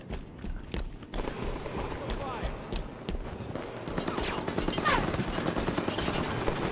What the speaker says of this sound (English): I got somebody shooting at me.